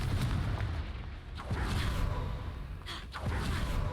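Confringo fire spells blast in the Hogwarts Legacy video game, several booming explosive hits with whooshes and rumble in dense, loud game audio.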